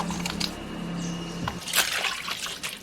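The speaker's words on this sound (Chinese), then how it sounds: "小肠洗干净，给它加一点盐洗。" Pork small intestines being washed with salt in water, close wet splashing and squelching with trickling and dripping, steady for a few seconds.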